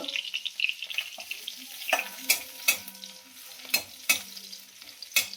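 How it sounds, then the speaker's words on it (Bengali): Dried red and green chillies fry in hot oil with garlic cloves for a Bengali pona and katla fish curry. A soft, steady sizzle runs underneath, broken by several sharp scrapes and taps of a spatula stirring the pan. "বেশি করে ভেজে নিলে ভালো হবে।"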